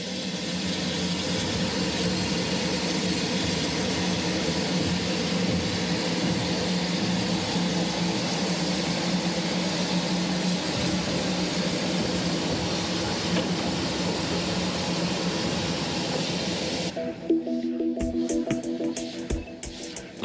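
Small narrow-gauge steam locomotive La Trochita preparing to depart, a steady low rumble and hiss holding throughout before breaking off near the end into sharper, irregular mechanical clanks and bursts.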